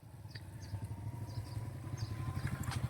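A motorcycle engine runs during a riding lesson as the rider eases the clutch and adds throttle, a low pulsing mid-pitched putter that grows gradually louder and rougher over a few seconds.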